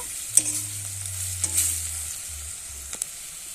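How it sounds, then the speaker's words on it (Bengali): Onion paste with turmeric and chili powder is stirred in hot oil with bay leaves, a soft steady sizzle punctuated by a few sharp scrapes and taps of the spoon over a low hum. "পেঁয়াজ বাটা আর এখানে দিয়ে দেবো পরিমাণ মতো হলুদ লঙ্কার গুঁড়ো দিয়ে সব একসঙ্গে মিশিয়ে নেব"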